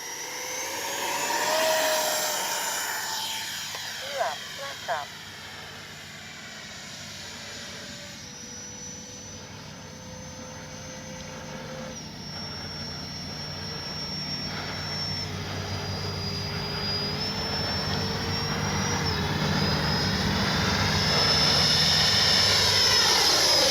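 A Freewing F/A-18C Blue Angel 90mm electric ducted-fan RC jet whines throughout, its pitch sweeping and swelling as it passes and climbs, with a couple of brief knocks early on and no talking.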